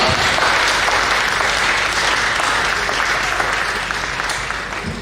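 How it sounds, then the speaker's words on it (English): An event audience gives itself a round of applause at a Planetary Liberation Day gathering: dense, sustained clapping that holds steady and slowly tapers toward the end. "give yourselves a round of applause"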